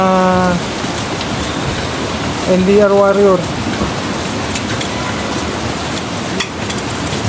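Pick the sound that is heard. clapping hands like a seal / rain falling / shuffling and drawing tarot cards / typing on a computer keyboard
rain falling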